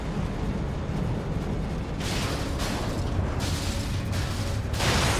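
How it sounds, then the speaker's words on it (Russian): An explosive charge blasts in the video game The Evil Within, a loud roaring rumble with several sharp bursts layered over dense noise, and no speech. "На шару истратил последний взрывной заряд"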